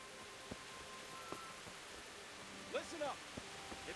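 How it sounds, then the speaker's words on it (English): Steady rain in the video game Kingdom Come: Deliverance, a soft even hiss of falling water throughout, with faint scattered game sounds and a brief voice-like bit over it. "Damn it, it's raining."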